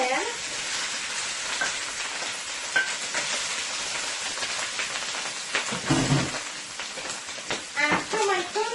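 Tuna sizzles and crackles in hot oil in a pan, a dense continuous hiss with scattered pops and a brief thump of handling near the end.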